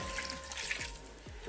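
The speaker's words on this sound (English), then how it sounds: "So I'll add in some water" Water trickles and splashes into a pan of goat meat being readied for a wet fry, close and moderately quiet, with small gurgling drips and a steady pour running throughout.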